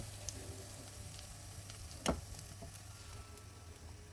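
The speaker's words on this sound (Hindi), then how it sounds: "देखिए इसको अच्छी तरह से फ्राई करें।" Chinese-style vegetable donuts deep-fry in hot oil with a soft, continuous hiss, quiet and steady, broken by a single brief clink midway.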